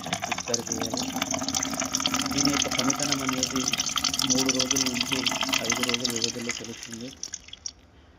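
Liquid crop spray for a chilli field being mixed in a bucket, a continuous close sloshing and trickling of water under steady talking, fading out near the end.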